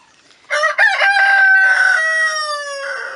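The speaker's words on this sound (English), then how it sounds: "Oh, excuse my chicken." A backyard chicken crows loudly and close by, one long drawn-out call beginning after a brief quiet and holding steady to the end, with no talking over it.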